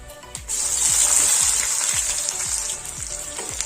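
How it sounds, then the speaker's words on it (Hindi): Sliced onions fry in hot oil with cinnamon, a bay leaf and red chillies, giving a steady loud sizzle and crackle close by, with faint scraping or stirring underneath. "इसको मिक्सिंग करके 3 से 4 मिनट अच्छा से फ्राई कर लें"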